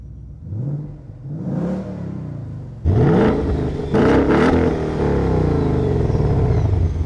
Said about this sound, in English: behind the wheel of the Mustang, let's start it up, see how it sounds